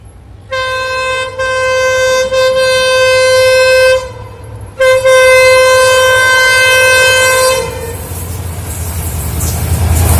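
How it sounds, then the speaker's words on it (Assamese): Train arriving near the shooting spot, its loud tonal horn blasting in two long sustained toots, the second ending as the low rumble of the approaching train grows underneath. "আপোনালোকক ট্ৰেইনখন আহিছে দেখাবৰ কাৰণে দৌৰি আহিছো"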